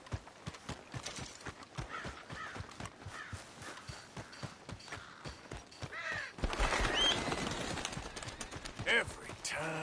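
Horse hooves in Red Dead Redemption 2 clop in a steady, even rhythm for several seconds, then give way to a busier, noisier mix of game sounds.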